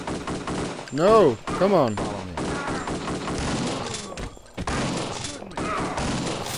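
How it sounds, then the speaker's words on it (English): Gunfire in the retro crime shooter Kingpin: Life of Crime, where the player's own goons start shooting each other. Loud shots and thuds overlap with chaotic combat noise, and someone speaks briefly over the din. "my goons started shooting each other because I shot one of them"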